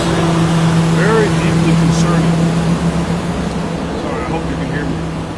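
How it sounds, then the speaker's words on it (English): Heavy traffic with dump trucks rumbling past, a continuous loud engine drone with a steady low hum, holding strong and easing a little near the end, with talk faintly mixed in. "apparently I've chosen to take my coffee break at some sort of like dump truck convention"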